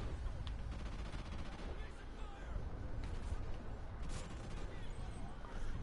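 Rapid gunfire in Call of Duty Ghosts multiplayer, including shotgun blasts, crackles in dense bursts over a busy, noisy game mix.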